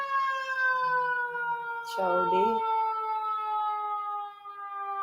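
An emergency vehicle siren holds one steady, sustained tone at moderate level for five seconds, with a brief spoken remark cutting in partway through.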